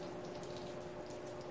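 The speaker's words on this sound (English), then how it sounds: "all the water coming down from the sink there" Water running steadily from a sink down into a drain in a flooding basement, a continuous close rushing wash that fills the whole clip without pause.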